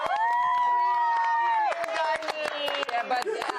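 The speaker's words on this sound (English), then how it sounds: "Can we give Lindani a round of applause?" A studio audience applauds and cheers for a guest on a TV entertainment show. A sustained whoop comes first, then a patter of claps that continues under the crowd noise.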